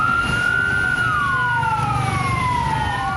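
Fire engine sirens wail at a burning public minibus in Temanggung, Central Java, several rising and falling tones overlapping loudly and continuously over a traffic rumble.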